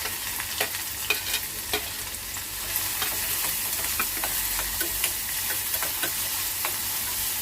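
A large chopped onion fries in a pan with three cut green chillies, making a continuous close sizzle and hiss with occasional scrapes and taps from stirring.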